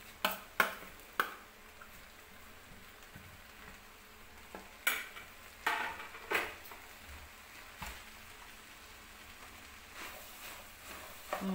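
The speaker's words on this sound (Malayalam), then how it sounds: "ഇനി അതിലേക്ക് മല്ലിച്ചപ്പും കരിവേപ്പിൻ്റെ എല്ലാം കൂടി ഇട്ട് കൊടുക്കാം" Coriander leaves and curry leaves go into a hot frying pan and get stirred, a quiet sizzle broken by scattered sharp clinks and scrapes of the spoon against the pan.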